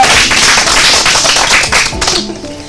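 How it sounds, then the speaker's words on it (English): A group claps their hands together in a dense, steady burst of applause that tapers slightly toward the end. "Clap for yourself."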